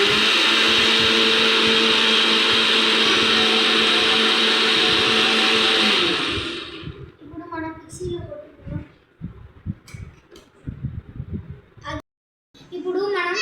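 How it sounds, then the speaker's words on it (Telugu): Mixer grinder blending mango pieces with water, a loud steady whirring drone for about six seconds that then cuts off, followed by clinks and handling sounds and a brief voice. "నెక్స్ట్ అది మిక్సీలో పెట్టుకుందాం"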